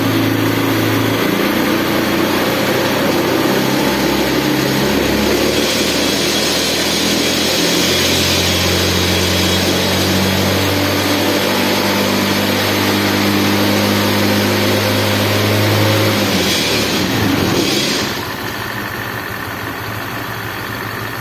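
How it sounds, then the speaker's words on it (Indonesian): Honda Beat FI motorcycle engine revving to higher RPM, a loud, steady mechanical drone close by that rises and holds before dropping away near the end, with no talking. "Untuk kita akan lakukan gas dari sepeda motor ini."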